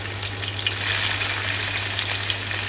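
Garlic and green chili sizzle in a hot kadhai for a village-style Koli dish, a steady, loud crackling fry that holds evenly throughout with no talking.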